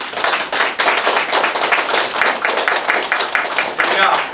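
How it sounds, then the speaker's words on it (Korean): Church congregation clapping in welcome as a visiting missionary comes forward, a dense steady round of hand claps filling the room for the full length, fairly loud and continuous. "우리 선교사님의 격려의 박수로 우리 환영해 주시기 바랍니다"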